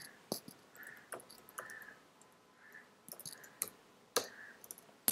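Sharp mouse clicks, about eight over a few seconds at an irregular pace, made while pressing the plus button and navigating Oracle Fusion software; close and crisp against a quiet room.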